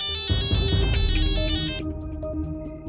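A loud, bright phone ringtone melody plays for a few seconds, then fades into softer, sparser tones.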